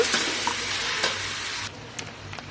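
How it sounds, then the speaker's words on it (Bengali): Masala and tomatoes frying in a pan for South Indian sambar dal, a steady close sizzle with a few sharp stirring scrapes, the hiss dropping slightly partway through; no talking. "তো মশলাটা কষা হয়ে গেছে টমেটারগুলো দিয়ে দিচ্ছি আবারও টমেটোগুলো দিয়ে ভালো করে কষে নেব"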